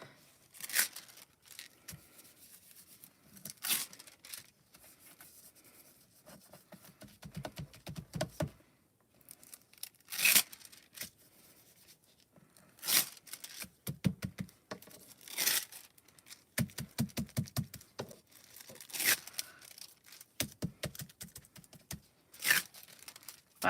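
Scrap foil crinkled and crumpled by hand near the microphone, sharp crackling bursts coming in uneven clusters separated by short quiet gaps, with no voices.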